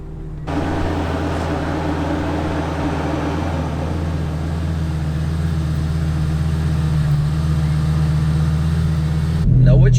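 A Lamborghini Gallardo with a single automated manual gearbox sets off, its engine a steady loud low drone that swells slightly as it pulls away, with a louder burst right at the end.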